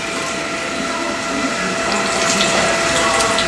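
Liquid drains out of the holes of a painted metal part during an adhesive stripper test, a steady close trickle and splash with a faint mechanical hum running underneath throughout.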